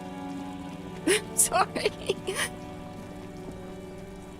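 Steady rain falls in the Disco Elysium: The Final Cut video game, a soft, even wash running through the whole stretch while someone speaks briefly over it.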